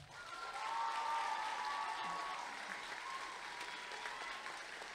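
A crowd at a regional high school talent show final in Mauricie applauds the jury, swelling into loud sustained clapping with some cheering, then easing slightly while staying steady.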